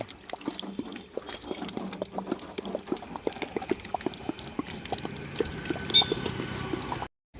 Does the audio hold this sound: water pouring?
yes